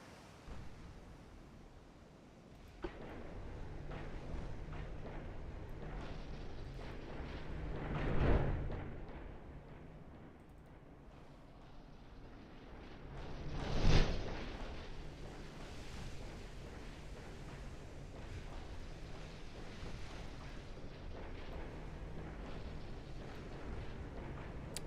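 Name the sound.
warship guns firing, from video game Ultimate Admiral Dreadnoughts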